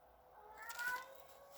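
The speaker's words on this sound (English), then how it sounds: "the cat really wants to be heard" A cat meows once, a drawn-out, rising call standing out clearly over a quiet background.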